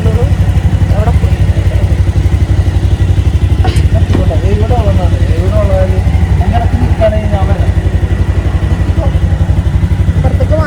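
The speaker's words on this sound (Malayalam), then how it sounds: "ഇവിടെ ഒരു വലിയൊരു ബൈക്ക് ഉണ്ട്, കണ്ടോളൂ." A big motorcycle engine idles with a steady, loud, rapid throbbing that runs the whole time, while people talk over it.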